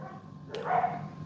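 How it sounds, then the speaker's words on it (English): A single dog bark sounds in the background of a room, short and moderately loud against a low steady hum. "Sorry about the dogs if you can hear those."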